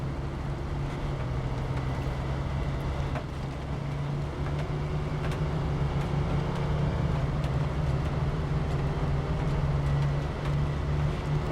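A late-1980s or early-1990s truck engine in SnowRunner drones steadily and loud, a low constant rumble with a sustained hum that never lets up, heard alone without any talk over it.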